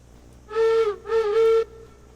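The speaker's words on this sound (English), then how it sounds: "I keep forgetting to blow the whistle when we stop." A steam locomotive whistle in the railroad game Railroads Online sounds two loud, close blasts with a short gap between them, steady tones standing alone over faint background.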